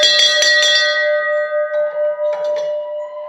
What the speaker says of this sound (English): So got the church bell hung up